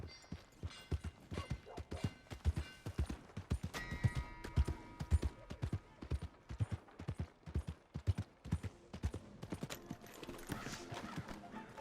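Horse hooves clip-clop in Red Dead Redemption 2, a close, steady run of sharp repeated hoof strikes over a busy background of game sound.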